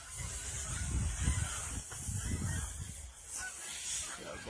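Large birds, honking goose-like calls, heard outdoors over steady wind-like noise, several calls in loose bursts at moderate distance.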